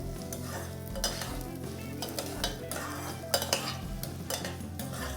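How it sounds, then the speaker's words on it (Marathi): Coarse wheat bharda roasting in hot ghee over a low flame while being stirred, giving a steady dense crackle with repeated scraping and clinking of a spoon against the pan, close and continuous, no talk. "आता हा भरडा आपल्याला व्यवस्थित मंद गॅसवर छान भाजून घ्यायचं आहे"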